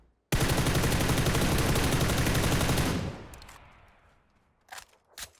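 An M4 rifle on full auto in PUBG, a long continuous loud burst of about two and a half seconds that cuts off into a fading echo, followed by a couple of faint clicks.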